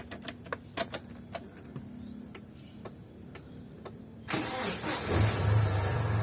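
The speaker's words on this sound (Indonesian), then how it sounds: "Sekarang kita coba nyalakan mesinnya." A 2004 Chevrolet Tavera engine is cranked and starts: a run of sharp irregular clicks and ticks, then a sudden loud rush as the engine catches and settles into a steady, rumbling idle close by.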